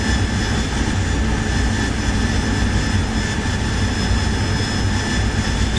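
Jet bomber aircraft launching in a naval video game, a loud, steady roar of jet engines with a sustained high whine, continuous and close, with no talking.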